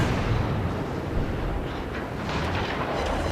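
Warship guns firing shells in World of Warships Legends, heard as a dense, continuous roar of booming naval gunfire and explosions with no clear gaps between blasts.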